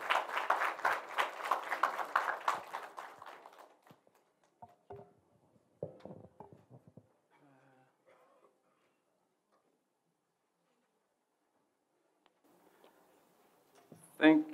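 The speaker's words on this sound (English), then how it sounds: "Can we please give him a big round of applause?" Applause for a minister at a public lecture on petroleum activities in Namibia rises as a burst of dense clapping for about four seconds, then thins to a few scattered claps and quiet, with faint sounds near the end.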